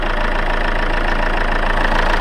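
A 2014 Chevrolet Cruze diesel idles steadily up close, a loud, even low rumble with a faint rhythmic knock and no pauses.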